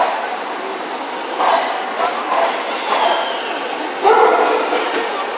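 A working dog being trained alongside its owner barks a few times, distant and muffled within a steady hiss of outdoor noise.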